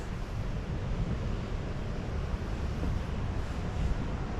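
A river flows beside an old sawmill in New Jersey, a steady broadband wash of water with some low wind rumble, continuous and moderately loud.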